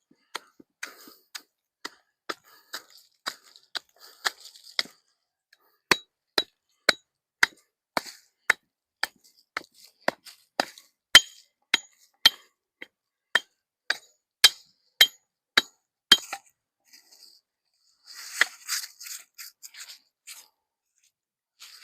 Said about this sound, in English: the rock I'm trying to grab is covered in stuff because it's frozen already. So, let's go ahead and scrape this off.